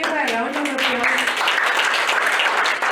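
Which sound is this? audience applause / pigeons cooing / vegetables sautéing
audience applause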